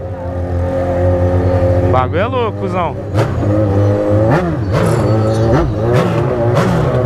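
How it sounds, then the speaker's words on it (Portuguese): A loud motorcycle engine revs hard outside a concert venue, a sustained roar broken by repeated sharp throttle blips, with people talking over it. "que moto barulhenta"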